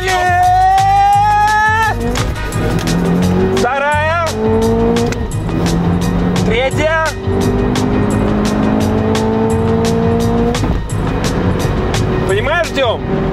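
A Subaru Impreza WRX STi launches hard and accelerates through its gears, the engine revving loudly and rising in pitch before each shift, with someone talking excitedly over the roar.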